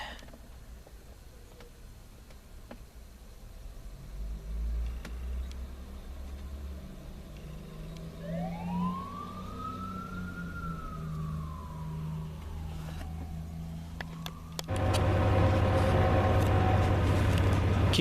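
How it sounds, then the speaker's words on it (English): A fire engine and rescue unit respond running code 3 near a railway line in Ladysmith, Wisconsin, their sirens wailing and sweeping in pitch from a distance, joined by a loud low rumble and horn-like blast toward the end. "Let's check out an engine and a rescue unit coming on out. So that'll run in code 3"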